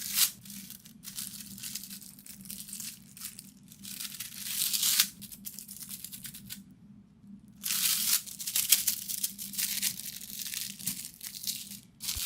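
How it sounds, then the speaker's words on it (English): Copper gilding foil pressed and crinkled against tacky glue on pumpkin decor, a close, continuous papery crackling and crumpling in irregular bursts with a brief pause midway. "I press the foil against the tacky glue and the copper sticks to it"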